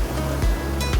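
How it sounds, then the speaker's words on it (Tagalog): Large sea waves surge and crash steadily at a fishing spot, a loud, close, broad wash with rolling low rumbles. "Yan napakalaki na ng mga alon."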